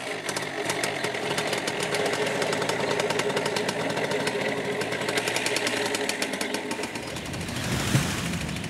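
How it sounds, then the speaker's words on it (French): A small paramotor engine drives a roughly thirty-kilo paraglider rig in the Charente countryside, a steady close buzzing drone that holds evenly throughout and swells slightly near the end. "Composé d'une voile de parapente et d'un petit moteur."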